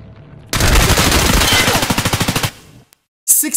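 An M4 rifle in the shooter game Escape from Tarkov fires a loud, close, rapid burst of roughly two seconds, then drops to silence before a brief sharp sound near the end.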